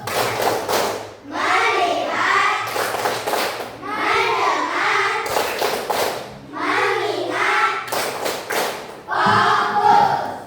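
Primary school pupils perform a rhythmic focus clapping routine in a religious education class, sharp bursts of unison claps alternating with children chanting together, repeated in several rounds close to the microphone.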